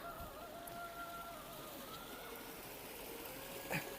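Falling water at the Sati Anusuiya ashram in Chitrakoot gives a steady, broad rushing hiss, even and continuous, with faint tonal sounds drifting over it and one brief sharp knock near the end.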